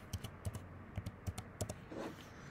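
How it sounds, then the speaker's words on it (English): Computer keyboard keys tapped while a password is typed, a quick irregular run of close, crisp clicks in small bursts, followed by a brief soft rustle. "So I'm going to type a normal password."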